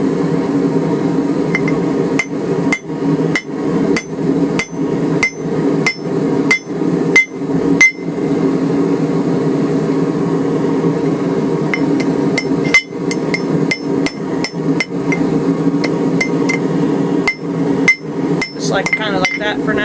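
A blacksmith's hammer forges and closes up the jaws of a hand-forged wrench, ringing in rapid bursts of sharp metallic blows with short pauses between runs, close and loud over a steady background hum.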